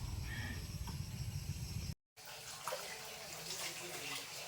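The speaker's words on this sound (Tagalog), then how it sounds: "so naghuhugas muna ako ng plato dito kayo" Water runs steadily from a tap while dishes are washed outdoors at a house in the Philippines, a constant splashing wash that cuts off briefly and then resumes slightly thinner, with no talk over it.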